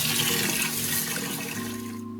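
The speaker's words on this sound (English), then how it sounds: "just washing in the sink should be fine" Tap water runs steadily into a sink as small Honda CRF125 dirt bike parts are rinsed, a loud, continuous broadband gush that cuts off abruptly near the end.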